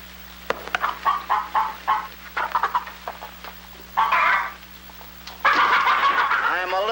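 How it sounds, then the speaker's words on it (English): Chickens cluck in a farmyard scene from the 1952 film Jack and the Beanstalk, a run of quick, close clucks followed by louder squawking bursts over a low steady hum. "Well, feed the chickens."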